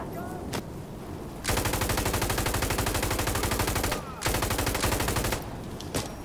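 Machine gun fire in the video game Insurgency Sandstorm: two loud, sustained bursts of rapid, evenly spaced shots, the first long and the second shorter, set against quieter background noise.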